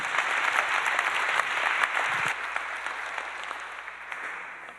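An audience at a pharmacogenomics talk applauds steadily to welcome a speaker, with dense, even clapping that fades gradually toward the end.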